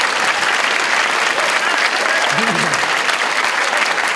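A crowd at a student hypnosis show in a French engineering school applauds loudly and continuously, with voices audible beneath the dense clapping.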